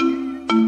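A mobile phone ringtone plays a short electronic melodic tone, loud and clear, changing pitch once partway through.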